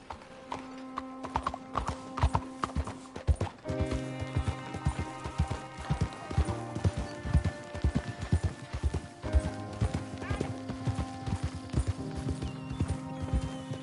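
Horse hooves clip-clopping during a ride in the Red Dead Redemption 2 video game, a steady rhythmic trot of sharp hoof strikes with a brief whinny, mixed with faint background game music.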